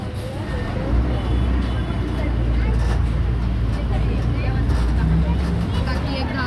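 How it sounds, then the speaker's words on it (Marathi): A bus pulling out of a busy stand bound for Kunkeshwar, its engine a loud, steady low rumble throughout, with voices faintly mixed into the noise. "चला गाडी सुटली कुणकेश्वराक."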